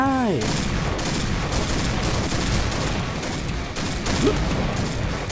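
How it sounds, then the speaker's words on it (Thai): Rapid gunfire from an SVU sniper-style rifle in an online shooter game, dense bursts of shots crackling continuously at steady loudness, with a brief voice at the start. "ผมยิงเขาหนึ่งนัดเลย"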